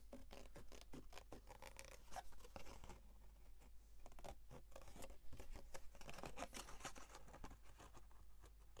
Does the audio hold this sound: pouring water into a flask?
no